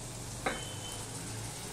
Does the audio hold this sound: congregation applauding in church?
no